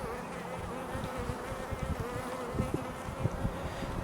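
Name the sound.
black bees buzzing on a hive frame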